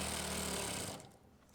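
A sewing machine runs steadily while stitching a zip onto bell-bottom pants with a very thin seam, its dense mechanical whir loud and close before it stops abruptly near the end.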